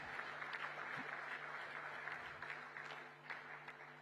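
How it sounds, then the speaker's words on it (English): Sustained audience applause at a national business chamber convention in Mumbai, a dense steady patter of many hands, moderately distant and fairly faint, holding evenly then easing slightly near the end. "the least we can do is give him a big, big round of applause to express our gratitude"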